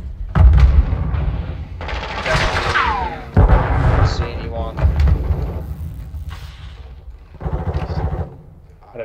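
Semtex grenade blast and gunfire in Call of Duty Modern Warfare 2 beta multiplayer: a sharp explosion followed by bursts of shots and booming impacts, with a player talking in between.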